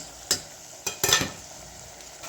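Potatoes sizzle in a hot pan for foxtail millet vegetable rice, with a soft continuous fry broken by three sharp scraping stirs of a utensil against the pan.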